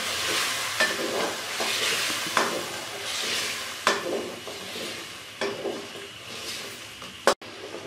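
Chicken and tomato paste sizzle and fry in a pan while a spoon stirs, giving a steady loud hiss with repeated scraping strokes and a sharp clack near the end.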